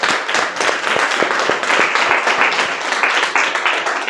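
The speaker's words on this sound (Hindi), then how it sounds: "जोरदार वाली तालियां।" A crowd at an RCM business gathering claps enthusiastically. Individual hand claps stand out within an uneven, close wash of applause that holds steady throughout.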